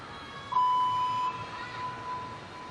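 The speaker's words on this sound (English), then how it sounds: "Beep indicates she has 10 seconds to finish the routine" A single electronic timer beep at a gymnastics balance beam final, marking ten seconds left in the routine, sounds as a steady tone lasting under a second over a quiet arena hum.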